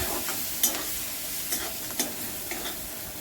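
Tomatoes with kitchen king masala, biryani masala, turmeric and a stock cube are sautéed in a pan, giving a soft steady sizzle broken by a few scraping stirs of a spoon, quiet and close, without speech.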